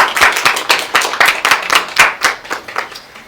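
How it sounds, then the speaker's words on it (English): An audience at a peace day festival claps for performers, a moderate burst of irregular hand claps that thins out toward the end, fairly close and without speech. "can we give them a round of applause?"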